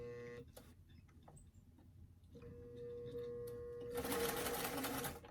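A home sewing machine zigzag-stitches elastic onto doll clothes, starting with faint intermittent ticking and short bursts, then running into a steady, louder whirring stitch toward the end; quiet and close, with no talking.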